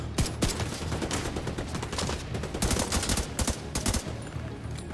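Rapid gunfire from The Division 2 video game, dense bursts of automatic and single shots crackling nonstop, loud and close.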